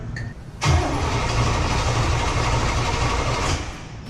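A car engine with starting fluid sprayed into its carburetor catches after a brief attempt and roars for about three seconds in a steady, loud, rough burst before dying away. No one talks.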